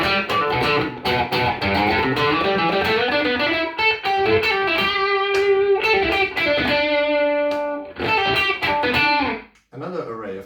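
Electric guitar with a split neck pickup plays a fluid melodic passage of plucked notes and held tones, bright and effected, ending in a brief pause and a few stray notes.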